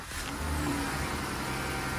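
An overheating truck's engine revs during a cooling-system block test, a close, loud mid-pitched roar that climbs briefly and then holds steady without any speech.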